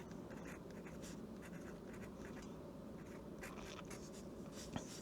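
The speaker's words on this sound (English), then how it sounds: "I'm gonna write guidebook." Pen writing a word on paper, a soft continuous scratching with quick strokes, close and faint over a steady background hiss, no talking.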